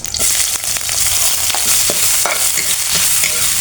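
Chopped ginger frying loudly in a hot pan for a chicken dish, a dense continuous hiss and crackle with quick stirring scrapes, very close and alone.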